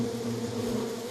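Hornets buzz steadily around a nest under the eaves of a three-storey school building, a close, continuous droning hum with no voices.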